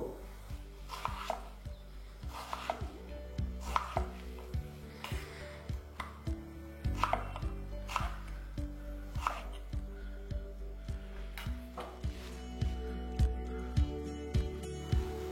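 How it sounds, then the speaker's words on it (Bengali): A knife chops potatoes for French fries on a board in quick, even strokes, giving a close, steady series of sharp taps. "আমি বাকি আলুগুলো কেটে ঠান্ডা জলে দিয়ে দেবো।"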